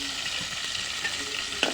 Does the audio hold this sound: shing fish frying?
yes